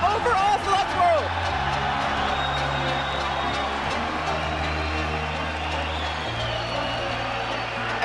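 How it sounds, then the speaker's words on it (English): A large crowd at an esports League of Legends semifinal in São Paulo roars and cheers after paiN Gaming wins the game, a loud sustained swell with a caster's voice talking over it. "And you can hear the crowd's excitement from that game."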